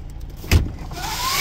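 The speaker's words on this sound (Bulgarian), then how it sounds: "електрически багажник" A 2025 car's electric tailgate runs on its motor, a close mechanical whine with a soft thump near the start and a tone that rises steadily toward the end, with no one talking.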